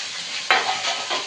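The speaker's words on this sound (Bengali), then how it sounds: "তোমার এই ক্যাপসিকাম আর গাজর আর বিনস আর একটু আলু, এইগুলো দিয়ে একটু ভাজা ভাজা করবো।" Capsicum, carrot, beans and potato fry in a pan with a steady broadband sizzle, broken near the middle by a sharp scrape of stirring and a later swell, close and alone.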